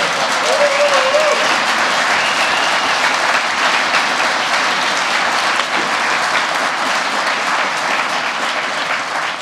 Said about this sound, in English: I genuinely think I could clap all day about that.